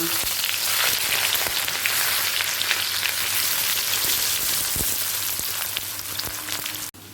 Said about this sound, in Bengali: পেঁয়াজকে মিহি করে কুচিয়ে নিয়ে তেলেতে ভেজে তুলে রাখবো